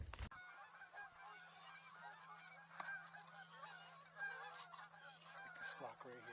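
A flock of geese honks continuously, many overlapping calls at a moderate distance, with a low steady hum underneath, heard from a dike road during a goose hunt.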